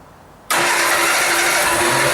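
A Triumph Herald car engine catches on choke after a quiet moment, bursting into a loud, steady, close idle that runs on without a break.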